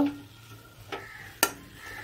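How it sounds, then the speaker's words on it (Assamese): Leafy greens are stir-fried dry in a pan to cook off their water: a quiet, soft sizzle with a few sharp spatula scrapes spaced apart, and no one talking. "শাকখিনি ভাজি আছোঁ শুকানকৈ"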